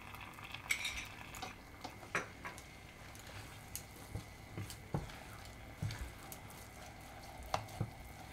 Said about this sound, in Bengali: এটা সুন্দর করে মিক্সড করে একটু ড্রাই হওয়া পর্যন্ত এটাকে আমাকে কড়াইতে এইভাবে নেড়ে যেতে হবে।